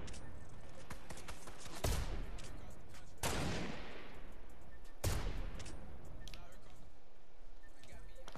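Gunfire from an enemy player in Fortnite: three or four loud shots with long ringing decays, spaced a second or more apart, plus a few faint clicks, alone.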